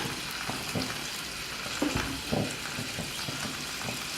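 Fish sizzling and frying in coconut oil in a hot pan for a Kerala-style grilled fish, a steady close hiss with faint crackles and a few soft stirring or scraping knocks.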